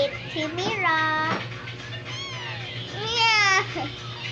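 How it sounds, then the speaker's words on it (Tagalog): A pet cat meows repeatedly up close, several drawn-out rising and falling calls with brief gaps between them. "Ito pusa ko magkulit."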